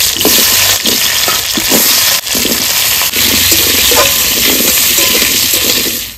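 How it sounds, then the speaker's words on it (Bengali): Potatoes frying in a pan of hot oil after fish for a rohu fish dish, a loud, steady close sizzle throughout with light scraping and stirring clicks. "এবার আলুগুলো ভেজে নেব।"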